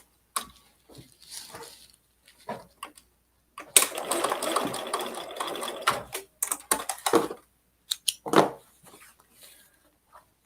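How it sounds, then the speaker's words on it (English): A sewing machine running a basting stitch on a men's button-up shirt, in short bursts with one longer run in the middle and pauses between, fairly close and clear. "So I'm just going to attach with a little basting stitch, sort of, right here."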